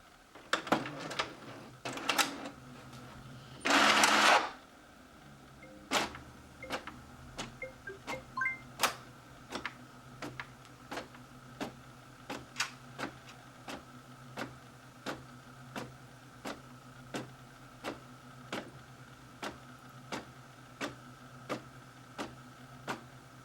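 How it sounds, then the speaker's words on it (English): An inkjet printer runs a sheet of sticker paper: a loud whirring burst of feed early, then a long series of regular sharp ticks and clicks as the print head shuttles back and forth, close by and without speech. "this is the printer that I'm sending it to. So I'm gonna click print."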